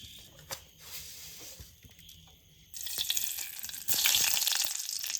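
Green chilies, mustard seeds and curry leaves hit hot oil in a pan for papaya moru curry, giving a crackling sizzle that swells louder in two steps over the second half.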